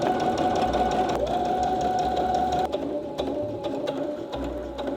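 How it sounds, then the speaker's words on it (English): Home sewing machine running a long basting stitch around a garment piece, a loud steady mechanical whir with a brief pause and shifts in speed, close and continuous with no talking. "I'm going to use that to stitch all around."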